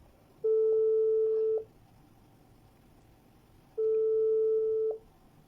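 Ringback tone from a telephone call being placed: two long, steady electronic beeps about a second each, separated by a few seconds of silence, clear and fairly close.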